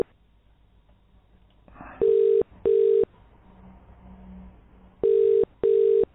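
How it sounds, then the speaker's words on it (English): A phone line on hold to Sofology customer service gives four loud electronic tone bursts, two pairs separated by a short quiet gap, steady and pitched, with no voice. "Ringtone."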